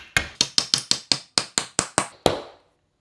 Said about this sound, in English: And I'll tap it in place with my wooden mallet.